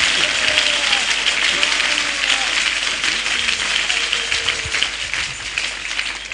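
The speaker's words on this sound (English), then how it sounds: "You are clapping for Jesus." Church congregation clapping during a prophetic ministration in an auditorium, a dense, loud, continuous roar of hands from a large crowd with voices mixed in.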